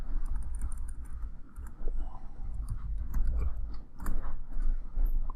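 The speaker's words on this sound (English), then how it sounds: "We can verify that by typing the same command" Quiet tapping of computer keys in short bursts and pauses, fairly close, with a low background hum and no talking.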